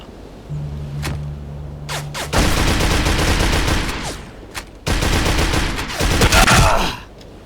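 Gunfire in the video game District187: rapid automatic bursts and single shots, loud and close, coming in several sustained volleys with short gaps, without talk.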